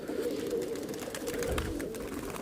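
Rajasthani kalmuhi pigeon cooing softly and steadily, a continuous low warble that stays at an even level throughout with no talk over it.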